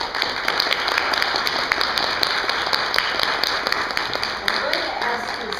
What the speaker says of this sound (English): So Christina, we applaud you.